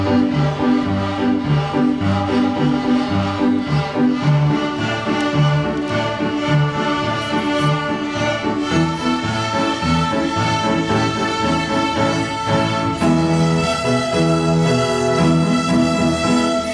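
A Year 3 school violin class plays a tune in unison starting on low G, a dense, continuous bowed ensemble sound with steady rhythmic strokes, loud and close throughout.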